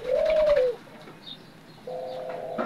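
Turtle doves coo in a breeding aviary: one soft, close, drawn-out call, then a pause and a second steady coo, with faint chirps behind.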